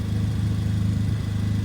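Toyota Celica ST180 engine idling slightly high, a steady close-up low hum with an even, rapid pulsing throb throughout, alone without talk.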